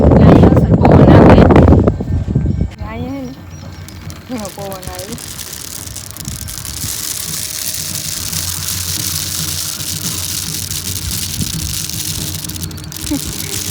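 Steady wind roars and rustles close to the microphone throughout, while people talk intermittently over the noise.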